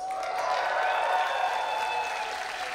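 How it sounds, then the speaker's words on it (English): Audience at a company-of-the-year gala awards ceremony cheering and applauding, a steady dense wash of clapping with raised voices and whistles carrying through the whole stretch. "Cheering is going to be necessary from now on because we're getting to the awards."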